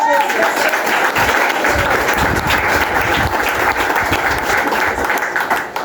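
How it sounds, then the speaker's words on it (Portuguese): A church congregation claps enthusiastically to welcome a young preacher to the pulpit, a loud, dense burst of applause filling the room with a few voices mixed in. "Ainda de pé, vamos receber o jovem Alcir com as palmas bem alegres para Jesus."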